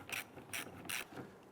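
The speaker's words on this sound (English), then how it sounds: "we're at a safe point to go ahead and tighten down our hose clamp here" A hose clamp on the fuel pump of a Dodge Grand Caravan is tightened with a ratchet, giving three or four quick, close clicking bursts in an even rhythm.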